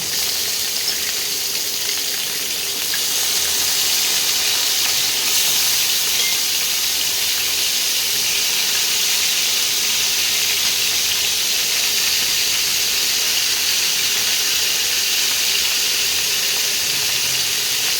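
Oil sizzles loudly and steadily with a dense, continuous hiss, as chicken fries close by without pause.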